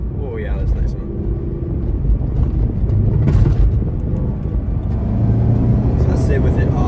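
Intake and engine noise of a Subaru BRZ on stock intake while driving: a continuous close low rumble that swells gently and climbs slightly in pitch, with brief clicks and rustles on top.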